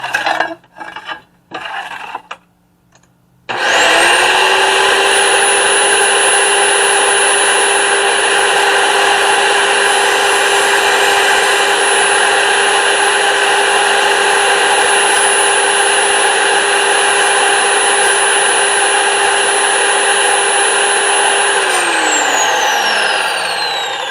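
A wet tile saw nibbling at a piece of tile: a few brief scraping contacts, then the motor spins up to a loud, steady whine that holds for about twenty seconds before winding down at the end.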